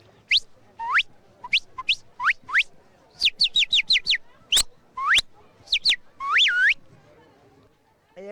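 A male performer imitates a parrot vocally with a run of short, sharp squawking chirps and whistles, some in quick bursts, loud and close against a quiet background.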